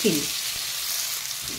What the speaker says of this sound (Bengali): আলু এখানে ভালোভাবে লাল লাল মতো ভাজা হয়ে গেছে।